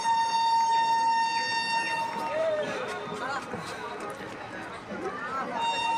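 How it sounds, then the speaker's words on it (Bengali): A train passes through a busy railway station with a steady rumble and a drawn-out horn-like tone, while crowd voices and chatter fill the background throughout. "একটা ট্রেন ক্রসিং হলো,"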